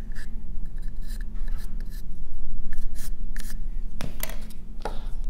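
A pencil tracing a notch line onto a wooden piece for a paddleboat project makes close scratchy strokes in irregular bursts, with a louder rub and a couple of sharper taps near the end.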